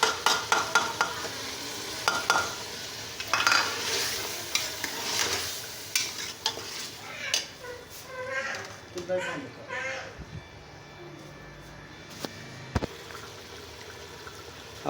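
Tomatoes and chopped green chilies go into a hot frying pan for a green beans dish, setting off a steady sizzle with spoon stirring and scraping that tapers off toward the end.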